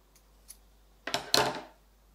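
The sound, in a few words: scissors cutting knitting yarn tail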